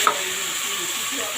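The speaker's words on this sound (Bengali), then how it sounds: "এবার আমি এর মধ্যে এই যে নারকেল পেস্ট এটা দিয়ে দেবো" Coconut paste goes into a pan of frying onion, chili, tomato and curry leaves, giving a steady, close sizzle and hiss that holds evenly throughout with no talk.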